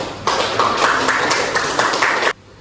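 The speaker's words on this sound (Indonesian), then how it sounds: "Ya oke, aplaus untuk kita semua" Classroom applause from a group of students, a dense burst of clapping lasting about two seconds, fairly close and loud, ending abruptly.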